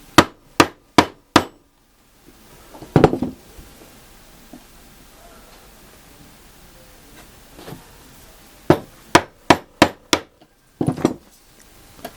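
Freshly sharpened chisels are struck into wood with sharp, loud mallet blows, first a quick run of four, then scattered single hits, and a later burst of five to six rapid strikes, with quiet workshop background between them.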